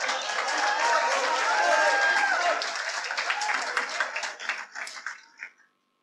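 An audience at a mushaira poetry recital in Bhopal claps, steady applause that swells, then breaks into scattered claps and fades out after about five seconds.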